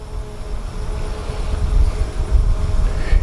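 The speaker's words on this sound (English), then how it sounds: "The drone's returning to its original starting point." A DJI Mavic Air 2 drone flies back toward its starting point, giving off a steady low whirring hum that swells slightly as it nears.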